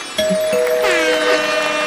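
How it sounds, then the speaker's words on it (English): An electronic doorbell chime rings, a sustained tone with ringing overtones that lingers and fades over a couple of seconds. "The doorbell's going off with it."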